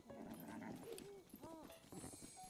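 A horse in Zelda Breath of the Wild gives a couple of short whinnies over the soft clip-clop of hooves, heard beneath someone talking steadily.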